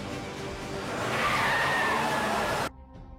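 In a dramatic film scene, a car accelerates hard with a rising engine roar and a squealing, skidding tire note that swells loudly before cutting off abruptly into near silence.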